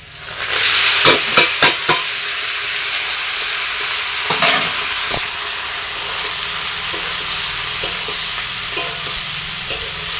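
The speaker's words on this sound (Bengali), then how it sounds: "কাঁচা লঙ্কা পেঁয়াজ কুচি কালো জিরে শুকনো লঙ্কা ফোড়ন দিয়ে এই যে ভাজা ভাজা করে নিচ্ছি" Chopped green chilli, onion, nigella seeds and dried chilli sizzle steadily in hot oil, close and loud, with repeated sharp scraping stirs and clinks of the spatula against the pan.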